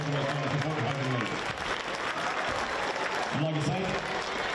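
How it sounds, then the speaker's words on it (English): An audience at a Nelson Giants v Hawkes Bay Hawks NBL basketball game applauds in two bursts of clapping, with an announcer's amplified voice speaking over and between them. "give a round of applause, please."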